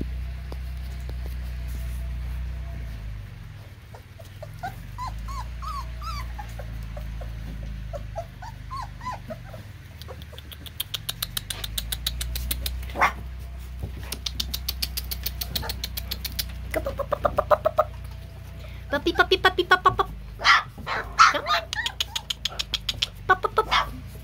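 Three-week-old Jersey x Opie puppies whimper with rising, whiny cries, then break into rapid yaps and barks that grow busier toward the end, close by over a low engine-like rumble.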